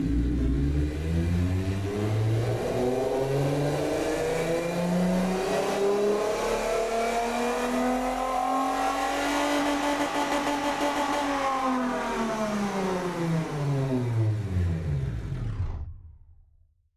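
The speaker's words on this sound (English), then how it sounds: "the engine sounds were way pumped up" A video game car engine from the Automation game revs up and holds a loud, climbing roar, pitch rising then falling before cutting off abruptly at the end.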